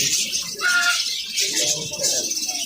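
Birds chirp and call in a busy pet bird shop selling budgerigars, quails and silkie and Kadaknath chickens, with bright high-pitched calls throughout and a voice speaking beneath them.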